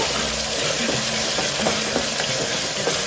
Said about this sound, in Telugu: ఒకసారి నీట్గా కలిపేద్దాము